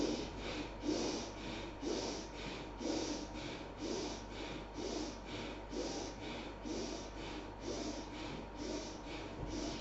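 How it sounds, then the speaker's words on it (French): Bhastrika breathing: forceful in-and-out breaths through the nose repeat in an even, rapid rhythm. The bursts are soft and close, with no talk between them. "on inspire et on expire par le nez, et ce sont des respirations forcées, aussi bien l'inspire que l'expire"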